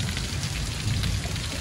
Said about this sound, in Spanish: Está lloviendo. Y hay unos truenos.